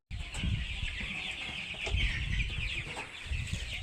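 Chickens on a poultry farm clucking continuously at close range, with scattered sharper squawks over a constant flock murmur and no talk.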